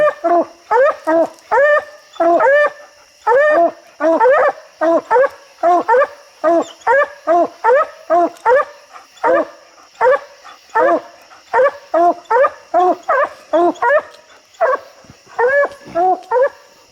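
Coon dogs barking steadily at a raccoon treed up a tree during a night hunt, loud close barks coming in a rapid, continuous rhythm with short pauses, the dogs baying together.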